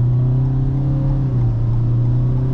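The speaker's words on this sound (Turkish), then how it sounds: "Şöyle Renault Koleos'la bir kalkış yapalım" A Renault Koleos SUV with a 1.6-litre 130 hp engine and CVT gearbox pulls away from a standstill at full throttle. Its engine gives a loud, sustained droning hum that holds a near-constant pitch, with no talk.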